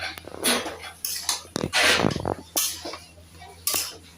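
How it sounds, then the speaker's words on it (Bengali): A spatula scrapes and clanks through boiled pumpkin leaves in a metal pan, in irregular bursts of scraping strokes with brief pauses between them, close by. "কিছুক্ষণ খুন্তি করে এইভাবে করে নেব, নাড়াচাড়া করে"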